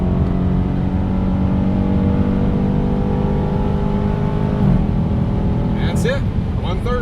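Loud, sustained roar of a 2019 Dodge Scat Pack 6.4 V8 pulling hard toward 130 mph, the engine note climbing steadily with a brief shift dip partway through, and someone speaking briefly over it near the end.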